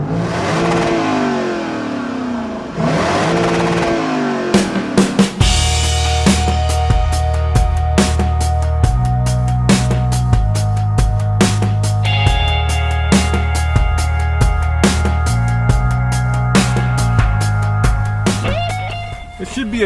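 A 2015 Cadillac Escalade and a Lexus LS460 rev and accelerate hard in a drag race, engines roaring loud and close through stepped gear changes, with a few sharp clattering knocks over the steady drone.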